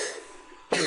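A short cough: a dry throat-clearing rasp trails off, then a sharp loud burst comes at the end, close to the microphone.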